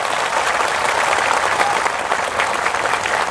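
An audience claps steadily in a thick, even wash of applause, loud and close, holding at the same level throughout with no voices over it.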